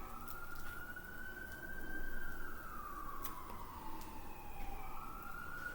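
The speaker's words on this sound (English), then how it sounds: "The classic police siren." A classic police car siren wails close by, rising and falling in long smooth sweeps over low traffic rumble, steady and fairly loud throughout.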